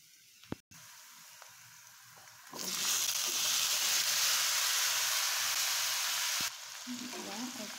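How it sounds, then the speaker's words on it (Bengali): Pumpkin pieces sizzle loudly in a hot pan with salt and turmeric, a steady frying hiss that swells after a brief soft stir and quiet start, holding strong for several seconds before easing slightly. "তারপর ভিতরে মিষ্টি কুমড়াটা দিয়ে দেব।"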